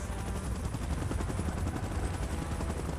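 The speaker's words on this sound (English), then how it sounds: "Chopper in position." A helicopter in the PUBG Mobile game gives a loud, steady, thumping rotor drone throughout, with dense rapid bursts like gunfire mixed in and no talking.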